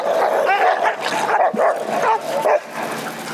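A stray dog pack in a city centre square barks loudly and continuously at close range, with overlapping barks and yelps from several dogs.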